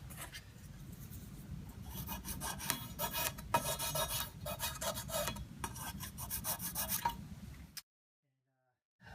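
Excess stock on a TV mount is cut off by hand with rapid, close rasping saw strokes for about eight seconds, which then stop abruptly into silence.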